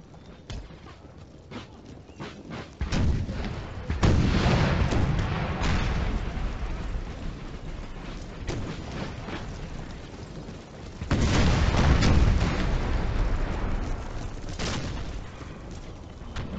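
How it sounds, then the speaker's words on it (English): Cannon artillery fire in the video game Total War: Empire 2 booms repeatedly amid a busy battle din, with louder volleys surging in rough waves over a continuous rumbling background. "Cannon fire is working lovely."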